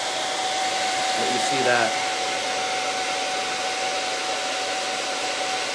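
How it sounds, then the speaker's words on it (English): Hair dryer blowing steadily and loudly while hair is blow-dried up and over during a short layered men's mullet haircut, with a brief spoken remark partway through. "even the back, I am blow drying up and over."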